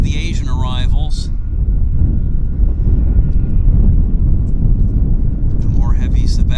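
A United Airlines airliner at Vancouver airport gives off a loud, continuous jet roar mixed with wind noise, with brief high chirping sounds at the start and end.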